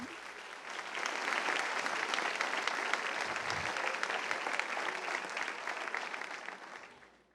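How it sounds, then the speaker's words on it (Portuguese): A church congregation breaks into sustained, loud applause, a dense wash of clapping that holds steady for about seven seconds before fading at the end. "Se vai aplaudir, aplauda forte."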